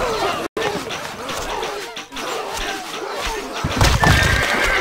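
A horse whinnies in the Stronghold Crusader strategy game amid game chatter and crowd murmur, a loud close neigh rising near the end over hoof clatter and voices.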